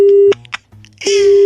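A phone call ends in a steady, loud disconnect tone that sounds briefly, breaks off for a moment with a short clatter, then resumes and holds.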